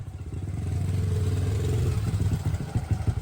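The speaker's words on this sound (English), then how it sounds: "a familiar sound reached her ears, the put, put, put, put of an old motorbike" An old motorbike engine putters with a steady low chugging rhythm. It is moderately quiet, with uneven pulses toward the end.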